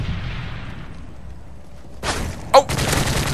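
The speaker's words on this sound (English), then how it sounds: "he's spraying with his FMG9s" Submachine gun fire from FMG9 pistols in the shooter game Call of Duty Modern Warfare 3: after a low rumble, a sharp burst near the end leads into sustained rapid firing, fairly close and loud.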